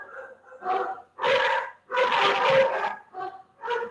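Several pet dogs bark in a run of loud, close bursts separated by brief pauses, some barks yappy and high, with no talking over them.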